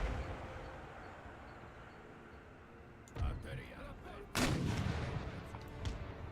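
Gunfire and artillery in the PC strategy game Empire: Total War, with booming cannon blasts over a steady battlefield rumble and a voice talking through it.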